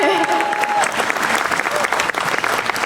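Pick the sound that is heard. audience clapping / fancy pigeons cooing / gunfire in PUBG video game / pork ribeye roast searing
audience clapping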